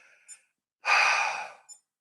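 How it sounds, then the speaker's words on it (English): Deep breathing after a two-minute breath hold: two faint short breaths, then one long, loud, close inhale-exhale of about a second, ending with a soft final breath, heard alone without talk. "Let's all start to breathe. We're breathing,"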